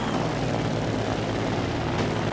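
An aircraft taking off in the game Trailmakers, giving a loud, steady droning engine roar that runs throughout.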